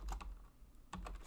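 Code is typed on a computer keyboard for a JavaScript beginner project: quiet, close clicks in two short bursts of keystrokes with a brief pause between them.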